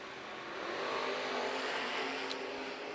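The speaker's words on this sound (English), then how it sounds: "Another great drag race." A drag race pairing a Camaro against another car, with engines roaring from a distance in a sustained, fairly faint accelerating rumble and a brief sharp high note just past two seconds.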